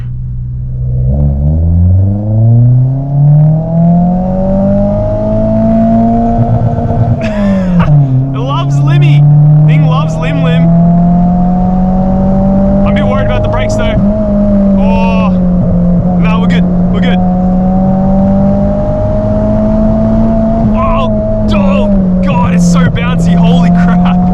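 A cheap Lancer car revs up and pulls hard on a hill road, its exhaust roaring as the pitch climbs and holds, with brief voices and clatter over the top.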